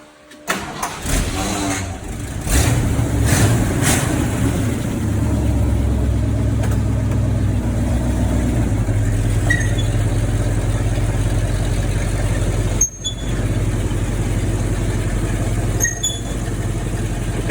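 A 1977 Ford F-150 truck engine starts with a few cranking bursts, then settles into a steady, loud, low idle that runs on close by, with a brief dip partway through.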